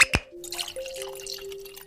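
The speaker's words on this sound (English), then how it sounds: "pouring ourselves a glass of wine" A glass of wine being poured: a short splash, then a steady gurgling stream whose pitch steps upward as the glass fills, close and clear with nothing else behind it.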